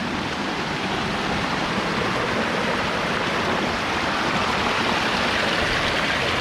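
Rushing water flows steadily and loudly nearby, a constant broadband wash with no pauses and no voices.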